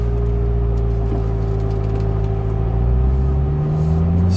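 A C7 Corvette with an Edelbrock E-Force supercharger, locked in first gear, hums with a steady low drone from inside the cabin, and the engine note swells slightly toward the end.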